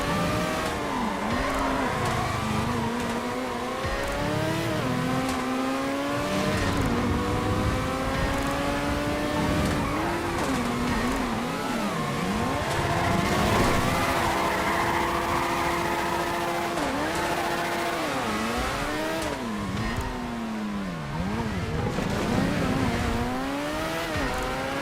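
DR1 formula race car in GTA Online racing on a snowy track, its engine revving loud and continuous with rising and falling pitch through gear changes and corners, no voices.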